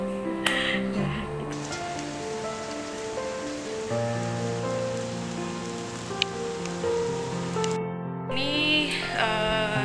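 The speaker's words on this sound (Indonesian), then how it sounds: "di BPSDM Provinsi Jambi lagi hujan" Steady rain falls at the BPSDM provincial training compound in Jambi, a constant even wash of drops with some droning tonal sound mixed in, heard up close throughout with no clear talk.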